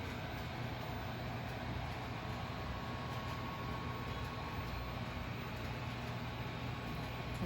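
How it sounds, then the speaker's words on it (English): Steady broadband rumble of a train rolling past at the Railroad Museum of Pennsylvania and Strasburg Railroad, a continuous moderate roar with no distinct breaks. "There's a train. There it goes."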